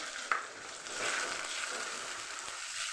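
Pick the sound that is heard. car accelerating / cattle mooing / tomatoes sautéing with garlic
tomatoes sautéing with garlic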